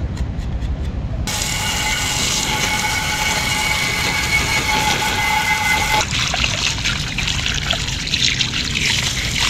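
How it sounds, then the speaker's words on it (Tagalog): Water poured into a part of a Toyota Vios during an oil change, a steady close trickle and splash that changes character partway through, with no talking. "Kaya bubuwasan natin ito ng tubig."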